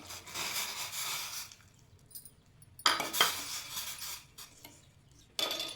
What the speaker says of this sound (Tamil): நல்லா இதை கிளறிக்கலாம்